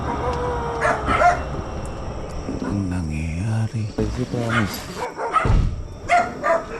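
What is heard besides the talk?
dogs barking at night in the street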